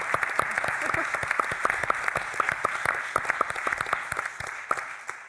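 An audience at a global health diplomacy panel applauds with many rapid, sharp claps, loud and sustained throughout before tapering slightly at the end.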